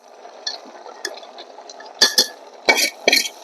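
Fried tempering goes into a pot of sarson da saag (mustard greens) and gets stirred in, producing bright metallic clinks and scraping spoon strikes that grow busier and louder toward the end, close up with no talking.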